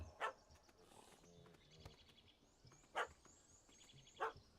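A dog in The Witcher 3: Hearts of Stone barking three times, short sharp barks spaced well apart over a quiet game ambience with faint background sounds.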